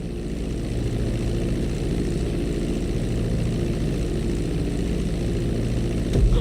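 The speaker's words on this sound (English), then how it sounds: "Now let's get the plane off the runway. Taxi over to the marked area and come to a complete stop." A propeller airplane taxis on a runway in GTA V, its engine droning at a steady low idle throughout, close and continuous, with a slight rise right at the end.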